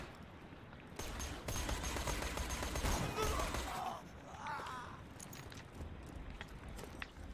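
Sniper rifle fire in the video game Borderlands 2, heard as a dense, rapid cluster of shots swelling to a loud peak in the middle, then scattered quieter impacts under faint background voices.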